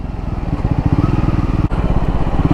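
A Triumph Scrambler 400X single-cylinder motorcycle ridden hard on back roads, its engine a steady, pulsing drone close by with a brief dip in throttle partway through.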